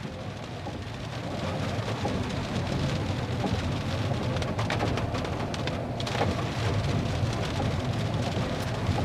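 Steady rain falling by a paved roadside with street lamps in late afternoon, a constant broad hiss of drops on surfaces holding level throughout, with no one speaking.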